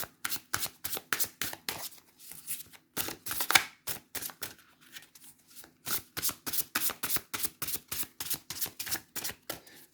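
Tarot and Symbolon cards shuffled by hand, a long run of quick riffling bursts in close succession with short pauses, crisp and near, no voices.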